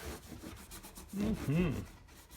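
Oil is rubbed into the rosewood fretboard of a vintage Seagull guitar and wiped off with a paper towel, making soft, close rubbing strokes, with a louder stretch midway where brief voice-like tones show.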